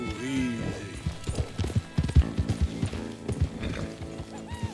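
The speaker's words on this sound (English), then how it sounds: "Come on, horses." Horses in Red Dead Redemption 2 clop along in a steady hoofbeat rhythm, close and distinct, with a whinny near the start and a voice talking to them between the steps.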